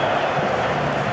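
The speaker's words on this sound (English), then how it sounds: "You're going to enjoy the applause from the fans." Football fans at Villa Park applauding Aston Villa captain John McGinn on his lap of honour after a 4-2 win over Liverpool, a steady wash of distant crowd clapping and murmur with no pauses.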